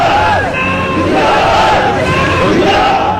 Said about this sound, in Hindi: कुछ स्टूडेंट यूनिवर्सिटी गेट पर इकट्ठा हो गए और नारेबाजी करने लगे